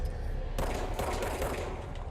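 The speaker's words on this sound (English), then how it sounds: "We just shot it" Gunfire in the video game Control, a dense, continuous burst of rapid shots that starts abruptly and rattles on loudly and close for about two seconds.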